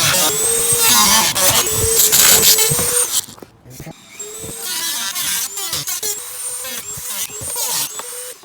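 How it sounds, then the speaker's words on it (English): A Dremel rotary tool cuts into a Jeep Wrangler JL fog light with a loud, high whine that cuts out briefly and then resumes, a voice talking over it. "Safety goggles on, Dremel in hand, and here we go."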